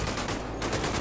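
Dense rapid gunfire rattles loud and close in GTA 5, a continuous burst of shots aimed at the player with no pause across the moment.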